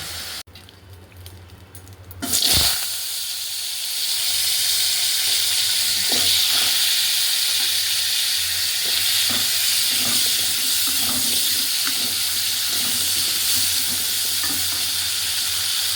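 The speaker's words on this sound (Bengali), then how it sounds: "এখানে দেখো বন্ধুরা মশলা কষা চলছে।" Spices fry in a pan for a prawn curry, hissing and sizzling steadily and close after a sharp start, with occasional stirring scrapes and clinks throughout.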